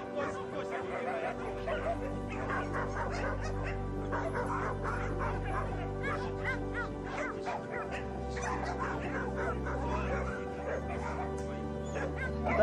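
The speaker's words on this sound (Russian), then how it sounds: "Здесь собаки живут" Many dogs bark, yip and whimper continuously at a shelter for formerly stray animals, a dense, loud chorus near and far with a low hum underneath.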